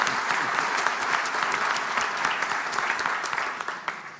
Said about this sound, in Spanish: ahora le damos un aplauso